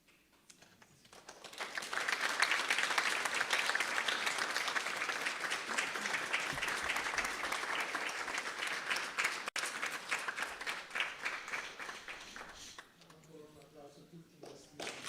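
Audience at a special remembrance event for Swami Kriyananda applauding the speakers: clapping swells in over the first seconds, holds as a steady patter, then thins and fades, with faint voices near the end.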